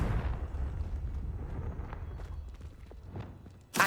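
A Confringo blasting spell explodes in Hogwarts Legacy, a heavy low rumbling blast that fades out gradually, then a sharp crack right at the end.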